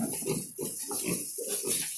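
Piglets grunting up close in a run of short, rough bursts, several overlapping with barely a pause between them.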